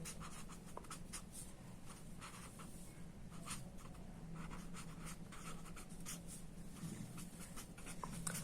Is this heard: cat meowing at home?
no